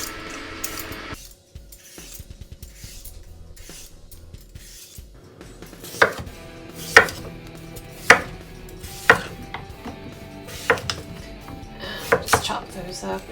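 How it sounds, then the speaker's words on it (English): Sweet potato being peeled: a run of soft, rhythmic scraping strokes, then a series of sharper, louder knocks spaced about a second apart, close and alone. "So peel our sweet potato."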